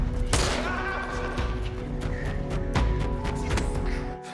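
In a film scene, several sharp gunshots crack out in quick, irregular succession, loud and close, over a busy background of sound effects.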